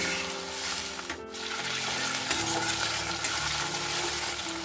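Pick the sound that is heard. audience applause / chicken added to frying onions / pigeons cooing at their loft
chicken added to frying onions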